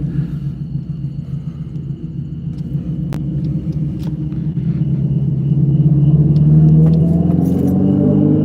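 An electric Mopar car on Woodward Avenue gives off its synthetic V8 idle with added turbine noises: a steady, deep droning rumble heard from inside the car, swelling slightly louder toward the end as a faint rising whine enters.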